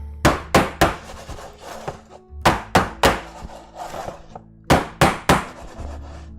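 Filled cake pans are banged on a kitchen counter before baking, producing close, loud, hollow knocks in rhythmic bursts of three or four, each burst separated by a brief pause, with no voices.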